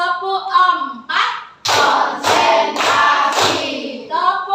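Four crisp, loud group claps land in an even rhythm, framed by a voice speaking before and after them.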